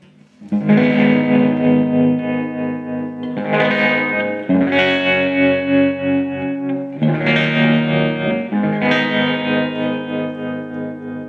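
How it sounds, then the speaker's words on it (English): Electric guitar through a JK Pedals Baby Doll Deluxe tremolo pedal on its sine wave setting: sustained chords swell and fade in smooth, rounded pulses, loud and alone, with several strummed changes. "I'll show you the different wave styles coming out of the tremolo"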